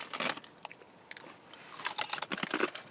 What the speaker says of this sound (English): They're incredibly crunchy.